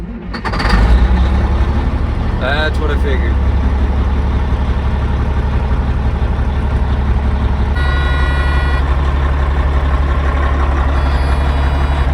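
A Caterpillar 3406E diesel engine runs loud and steady on a test stand after starting. A brief high whine is heard early on, and a tonal hum rises later. A short spoken phrase is barely audible over the engine.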